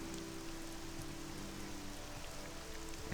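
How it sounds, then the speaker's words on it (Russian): Steady rainfall in the game Morrowind, a constant even hiss of falling rain with faint scattered drops, moderately quiet and uniform throughout, no speech. "Так, здесь что-то дождичек какой-то неприятный."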